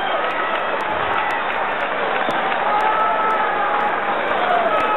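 A boxing arena crowd at a Lamar Parks versus Basante Blanco bout makes a dense, steady roar of disapproval, loud and continuous throughout, with a commentator's voice faintly mixed in.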